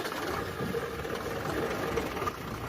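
An Isuzu truck diesel engine, just repaired for a smoke problem with new injector bushes and washers, turns over and settles into a steady, rumbling run, close by and fairly loud throughout.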